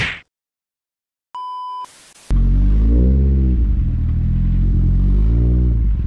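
A Nissan Silvia S13 engine warms up, idling loud and steady close by after a brief electronic beep and click, with no voices over it.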